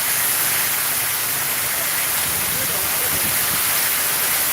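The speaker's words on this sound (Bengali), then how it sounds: "এই যে দেখেন কি পরিমাণ বৃষ্টি রে ভাই, ঝড় বৃষ্টি আসছে পুরোপুরি" A loud, steady wash of heavy storm rain falls at night in Sylhet, filling the space evenly, while a low voice murmurs briefly partway through.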